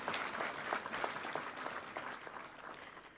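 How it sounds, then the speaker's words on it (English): Audience applause at a Kenyan judiciary gathering, a dense, steady wash of many hands clapping at moderate distance, holding even throughout before easing slightly toward the end. "I'll just ask that we give ourselves a round of applause"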